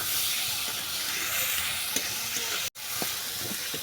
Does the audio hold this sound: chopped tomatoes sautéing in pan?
yes